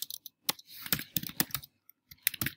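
Fingers typing on a computer keyboard: quick irregular bursts of close, sharp key clicks with short pauses between runs.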